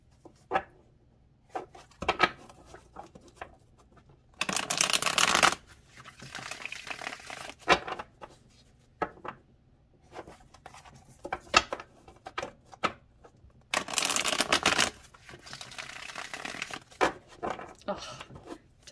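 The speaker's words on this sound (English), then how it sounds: "Don't you just love when the cards shuffle like that?" Tarot cards are shuffled in crisp bursts of riffling and flicking, two longer dense shuffles separated by scattered card taps and handling noises, close and fairly quiet in a calm room.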